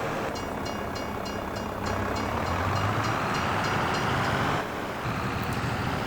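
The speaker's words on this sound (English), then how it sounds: "A nice view of the train going by." A train rolls past in the Farming Simulator game on the Old Stream Farm map, a steady broadband rumble of railcars that swells midway and holds, with a repeating rhythmic clatter of wheels over the track joints.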